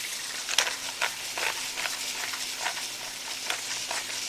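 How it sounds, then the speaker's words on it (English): Eggs seasoned with salt and pepper are whisked in a bowl, a quick run of close, bright clicking and scraping strokes in an uneven rhythm, with no voices. "Okay, so whisk those up."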